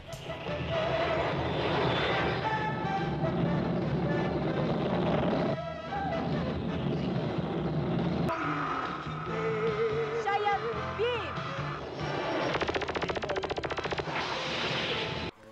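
A sci-fi fighter jet, the Sky Cheyenne from Shaider, roars past while rapid Cheyenne beam-weapon blasts and explosive bursts fire repeatedly, loud and dense, with swooping electronic zaps.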